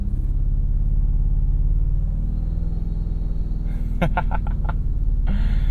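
A 2024 Toyota Tacoma Trailhunter climbing an off-road trail in four-high, its engine giving a loud, steady low rumble with a brief burst of rattling and clattering near the end.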